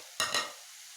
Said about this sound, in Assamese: এতিয়া মই ইয়াত এড কৰি দিছোঁ এনেদৰে আগতেই ভাজি থোৱা তিতা কেৰেলাখিনি।